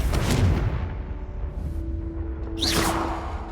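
Confringo fire spell blast in the video game Hogwarts Legacy: a loud, close fiery boom with a rushing whoosh, fading, then a second swishing burst near the end.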